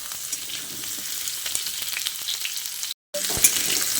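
Mixed vegetables such as potol, pumpkin, drumstick and potato frying in a pan for a Bengali panchmishali torkari, a steady close sizzle with light stirring scrapes, broken by a brief silent gap near the end.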